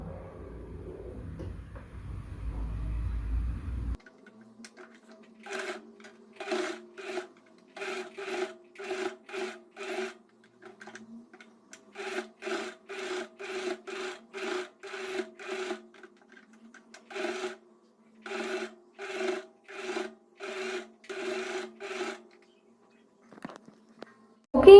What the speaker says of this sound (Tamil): இப்போ வந்து இதை மெஷினில் வச்சு பக்காவாக வந்து ஸ்டிச் பண்ணிக்கலாம்.